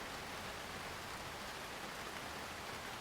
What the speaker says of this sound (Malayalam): ഫോട്ടോ എടുക്കാനാണ് ഇപ്പൊ പറ്റത്തില്ല, മഴയാണ് മഴ